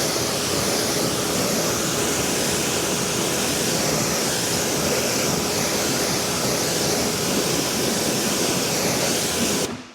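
A car with a fresh ceramic coating gets rinsed down with water, a steady loud hiss of spray running unbroken and close for the whole stretch with no talk, cutting off abruptly at the end.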